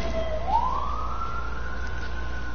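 Outdoor emergency vehicle siren sweeping upward into a long steady wail, clearly audible above a low droning hum, without any speech.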